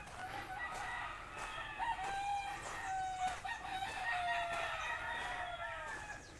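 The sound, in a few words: chickens clucking and roosters crowing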